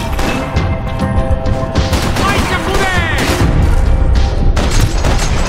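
Gunfire in the shooter game Max Payne 3, loud rapid bursts of shots and booming impacts layered over game music and effects, with someone talking over the action.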